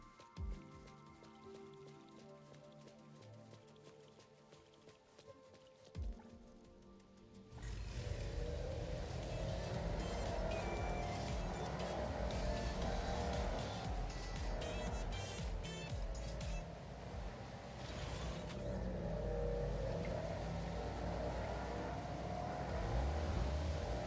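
A Porsche engine roars and revs in an advertisement playing back, a rumbling car sound that swells in after a quieter musical opening and holds loud and steady with rushing texture.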